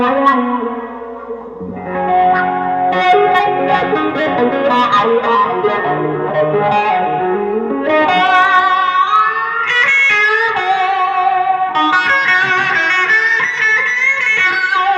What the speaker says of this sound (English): Now you click the wah-wah on.